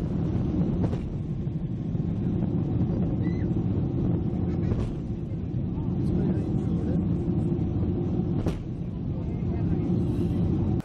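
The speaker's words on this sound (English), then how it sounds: "Boeing 767 shoots flames on takeoff, returning afterwards for a change of the engine." Boeing 767 taking off with one engine shooting flames, a loud steady jet roar and rumble holding throughout, with a few sharp bangs or pops breaking through the noise.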